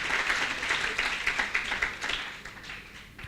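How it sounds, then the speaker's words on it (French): Congregation in a church giving a clap offering, a burst of dense, rapid applause from many hands that holds steady and then thins slightly toward the end. "free to give a clap offering unto the Lord."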